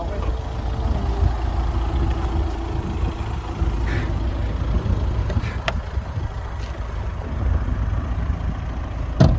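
A car pulling away after an emergency braking test, a steady low engine rumble with traffic-like noise running throughout, moderately loud, with faint voices and small clicks over it.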